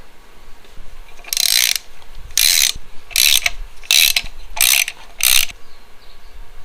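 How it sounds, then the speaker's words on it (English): A ratchet with a 1/2-inch socket driving short 5/16 cap screws on a belt drive of a 4.2 liter engine, six quick bursts of rapid clicking evenly spaced, close and loud. "3 5/16 threaded short cap screws here with 1/2-inch sockets."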